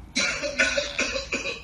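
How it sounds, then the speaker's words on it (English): Several sharp coughs from one person in a comedy sketch, four close bursts in quick succession at moderate loudness, with no talk over them. "Who's that coughing in the back?"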